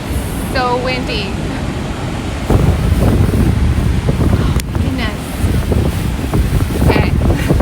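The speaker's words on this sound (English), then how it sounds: "Ah, so windy." Strong wind buffeting the microphone at Niagara Falls on a rainy, foggy day, a loud continuous roar that surges louder partway through, with a person exclaiming over it.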